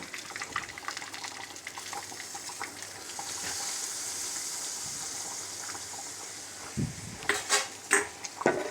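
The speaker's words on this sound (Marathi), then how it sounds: "त्यामध्ये मी इथे एक चम्मच तेल त्यामध्ये कढीपत्ता जिरा आणि मोहरी घालून छान गरम करून घेतला आहे हे मी यामध्ये वरतून घालणार आहे" Hot oil tempered with curry leaves, cumin and mustard seeds is poured over simmering kadhi, a bubbling sizzle that swells midway, followed by a few sharp clinks of a metal pot or ladle near the end, no speech.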